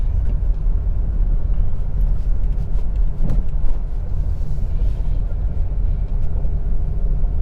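A car creeps slowly forward through a traffic crossing under careful clutch control, giving a steady low engine and road rumble throughout with a brief swell midway.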